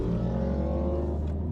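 A BMW X2 M35i with a turbocharged 2-litre engine accelerates, giving a steady, loud, close engine drone that holds throughout with no talk.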